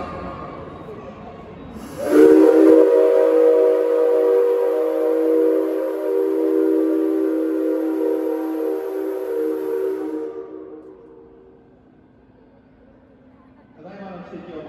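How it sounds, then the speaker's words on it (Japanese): A loud, sustained whistle from steam locomotive C57 135 blasts for about eight seconds with a rich, layered tone at a railway museum turntable, then fades into quiet hiss. "最後に C57、135号機が大きな汽笛を鳴らします。"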